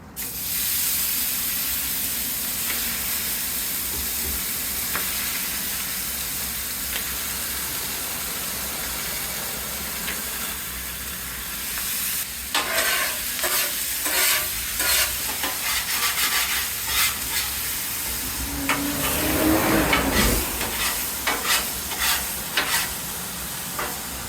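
Thin Steak-umm sliced meat frying on a Blackstone griddle, a steady close sizzle and hiss that turns busier and louder partway through as the meat is stirred and scraped.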